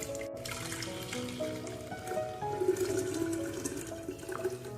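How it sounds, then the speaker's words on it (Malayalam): A blended watermelon drink is strained through a sieve, giving a faint, steady trickle and splash of liquid with small gurgles, heard close up and alone. "ഇത് നമുക്കൊന്ന് അരിപ്പി കൂടെ ഒന്ന് അരിച്ച് മാറ്റാം"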